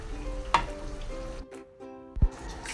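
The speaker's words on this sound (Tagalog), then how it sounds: "Then, halo lang ulit ng konti." Bitter gourd frying in a pan with ground black pepper, stirred with a utensil: a steady close sizzle, a few sharp scrape and clack accents, and a brief lull in the middle.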